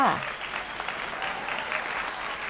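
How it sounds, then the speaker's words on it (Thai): Children in a classroom clap for themselves after answering correctly, a steady dense patter of small hands sustained throughout at moderate level, with a brief voice at the very start. "ปรบมือให้ตัวเองด้วยค่ะ"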